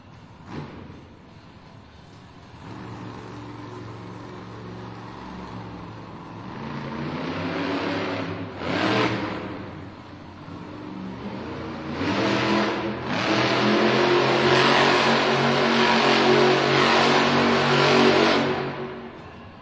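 Earthshaker monster truck engine revving hard in an arena donut competition, loud roaring bursts that climb and surge, swelling near 8 and 13 seconds into a sustained, crowd-backed howl through the final stretch.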